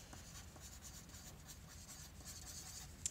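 Pencil scratching across paper while a name is written on a homemade treasure map, a quiet close run of short scribbling strokes with faint rhythmic rasps, no talk.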